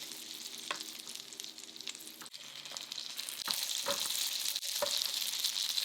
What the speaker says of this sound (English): Pan fry for about 3 minutes per side until golden and crispy